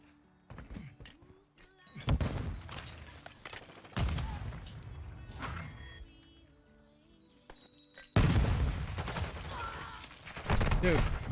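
Bursts of gunfire in ranked Call of Duty Modern Warfare II multiplayer, several loud volleys with gaps between them, punches through wooden cover, with scattered thuds and some talk.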